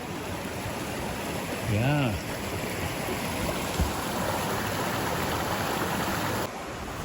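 A clear mountain creek in Glacier National Park rushes steadily and loudly nearby, a broad constant wash, with a voice speaking briefly over it.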